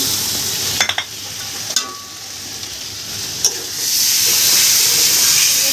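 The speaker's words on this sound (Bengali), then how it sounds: "এদিকে যে আমার বাবু ডিমের মশলাটাও কষানো হয়ে গেছে আমি ডিমটাও দিয়ে দিচ্ছি" Eggs go into a pan of sizzling spice masala, a few clinks and scrapes giving way to a loud, hissing sizzle that swells near the end, close and with no talk.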